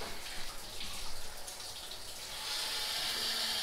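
Steady rushing water flows into a home heating boiler system while air is bled from a zone, a continuous hiss that grows slightly stronger and brighter partway through.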